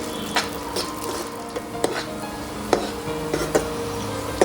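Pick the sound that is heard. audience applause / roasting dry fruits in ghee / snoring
roasting dry fruits in ghee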